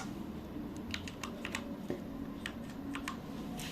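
Quiet, steady tapping of keys on a computer keyboard, a string of light clicks in an irregular rhythm over a soft background hum, with no voices.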